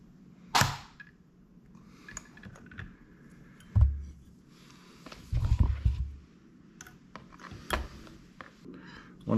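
A Glitter 801B battery spot welder fires sharp, loud snapping pulses while welding e-bike battery cells, several separate cracks over about nine seconds with quiet handling sounds between them.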